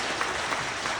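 Audience applause after a hospital spine-health lecture, a dense steady wash of many hands clapping together, loud and sustained for the whole moment.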